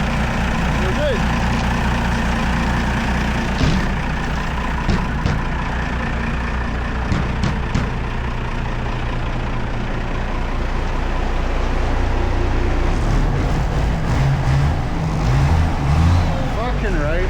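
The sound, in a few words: turbo diesel truck engine idling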